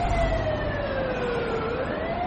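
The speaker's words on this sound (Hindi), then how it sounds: "लहरों की आवाज के साथ लोगों की चहल पहल में एक सायरन की आवाज भी आ रही थी" A loud wailing siren that slowly falls and rises in pitch over a steady rumble of traffic, by the seaside amid crowd bustle.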